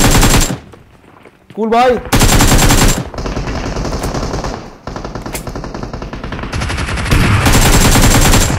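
Automatic gunfire in the BGMI battle royale game crackles in loud sustained bursts, pausing briefly before resuming in long rapid volleys, with a voice speaking in between.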